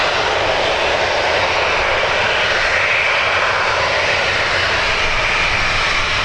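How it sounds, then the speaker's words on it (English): Steady, loud roar of an EasyJet airliner's engines as it taxis around Birmingham airport, a continuous broadband rumble holding level throughout with no voices. "there's an EasyJet working its way around the airport as well."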